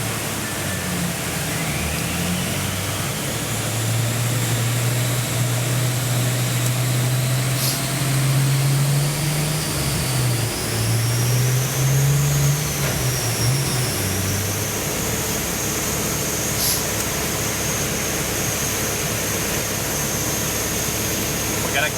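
A GT-R-engined Datsun 240Z running on dyno rollers, its engine a loud, steady drone that rises and dips in pitch with a high whine above, with voices talking faintly underneath.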